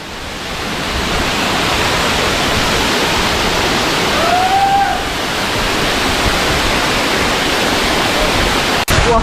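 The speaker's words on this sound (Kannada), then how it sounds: "ಫಾಲ್ಸ್ ಒಳಗಡೆ ಹೋಗ್ತಾ ಇದ್ದೀನಿ." A waterfall roars with loud, continuous rushing water heard up close, a dense unbroken wash of noise from start to finish.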